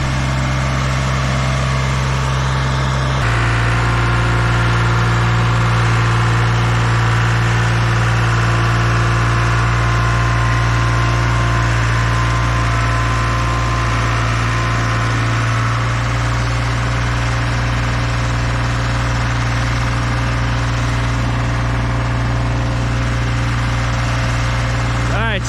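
A dual drum vibratory roller's engine idles in a loud, steady, continuous drone with a deep low hum, shifting slightly in pitch after a few seconds and then holding constant throughout.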